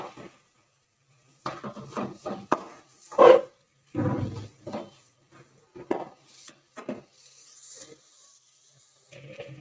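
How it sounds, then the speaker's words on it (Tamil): A spoon stirs and scrapes tomato masala in a cooking pan for egg gravy, giving intermittent clattering bursts and scrapes that stand alone with no talk. "2ஐயும் சேர்த்துட்டு நல்லா கிளறி விட்டுட்டு பச்சை வாசனை போகட்டும்."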